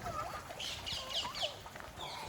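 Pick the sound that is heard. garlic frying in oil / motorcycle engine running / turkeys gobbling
turkeys gobbling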